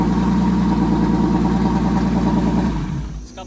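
An Audi V6 swapped into a square-body VW Gol idles loud and close with a deep, even burble, then cuts off abruptly near the end.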